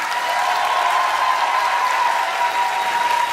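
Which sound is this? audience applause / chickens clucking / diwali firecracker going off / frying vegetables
audience applause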